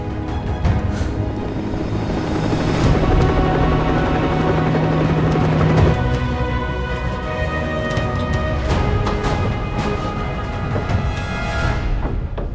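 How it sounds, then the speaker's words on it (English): A helicopter arrives in a sci-fi film scene, its steady loud rotor roar and engine drone filling the scene, swelling and shifting in tone as it draws near. "Right here with the chopper to pick us up."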